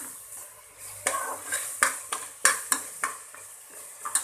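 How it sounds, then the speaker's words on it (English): A spoon scrapes and clanks repeatedly against a pot in an irregular rhythm while masala with ginger garlic paste sizzles steadily underneath, close up with no talking. "Mix it well, and again fry it for at least 5 minutes."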